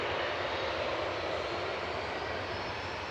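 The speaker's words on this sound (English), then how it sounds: "there's a swathe of Jet2s leaving" A Jet2 airliner departing Manchester Airport, its engines producing a loud, steady broadband roar that holds evenly throughout, with no voices over it.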